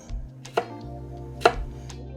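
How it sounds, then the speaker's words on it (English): Knife slicing okra on a cutting board, heard as a few sharp, close chops spaced apart over a low background hum. "we got the okra all cut up"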